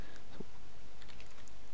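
Code is typed on a computer keyboard in short, uneven bursts of clicks, close and fairly loud over a constant background hiss, with no talking.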